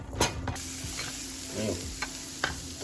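Vegetables go into a sizzling pan of curry spiced with smoked paprika and cayenne, Trinidad doubles style; a steady fry hiss runs throughout, with a few light clatters of stirring on top.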